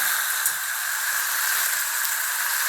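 Peanuts, turkey berries and brinjal sauté in a pan for tamarind curry, giving off a steady, close, airy hiss of frying without pause.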